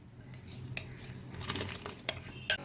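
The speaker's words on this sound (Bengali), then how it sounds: "এবার আমি এর মধ্যে চালগুলো দিয়ে দিচ্ছি" Ghee-coated rice tipped into a pot of thickened milk for payesh, heard as soft metallic scrapes and clinks of a spoon against the pot, with a few sharper knocks toward the end.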